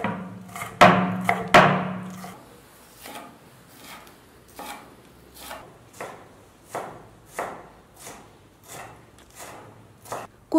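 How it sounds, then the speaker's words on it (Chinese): A knife chops green and red peppers into small bits on a board, a rapid flurry of sharp knocks early on, then steady evenly spaced single chops, close and clear with no talking. "再改刀切末"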